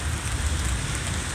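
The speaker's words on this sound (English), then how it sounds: "Yeah, it's raining." Steady rain falling outdoors outside a hotel near California Adventure, a dense, even hiss of drops hitting surfaces with no pauses, fairly close and constant throughout.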